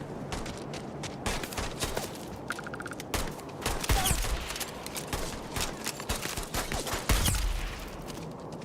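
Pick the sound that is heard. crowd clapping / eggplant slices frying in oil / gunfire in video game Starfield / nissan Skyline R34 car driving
gunfire in video game Starfield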